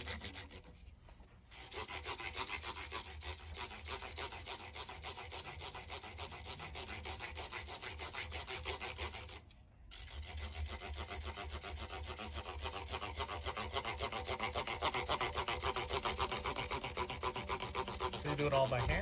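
Frets on a new Warmoth guitar neck polished by hand with fine sandpaper, a steady close scratchy rubbing that runs continuously with one brief pause partway through.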